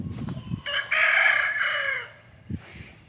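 Backyard egg-laying hen loose outside her pasture fencing, a close bright crow-like cackle in the middle with short low clucks before and after, no talk.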